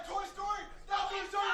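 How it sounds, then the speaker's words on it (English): Crowd at a Gears of War 3 esports semi-final match, a brief burst of yelling and cheering that swells twice, moderately loud and mixed with voices. "we're getting some screaming from the crowd"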